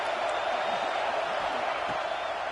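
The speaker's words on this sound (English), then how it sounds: "Here comes the noise from this big crowd in Happy Valley on third down." A big college football stadium crowd in Happy Valley roars on third down, a dense, steady wall of noise that holds at constant loudness throughout, with no distinct voices standing out.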